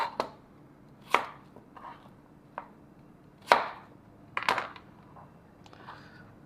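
Irregular knife chops through yam on a cutting board, about half a dozen sharp thuds with quieter taps between, close and clear, no speech.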